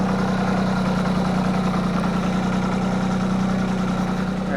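A tractor engine idles steadily nearby, a continuous low throbbing drone with an even mechanical hum that holds without change from start to finish.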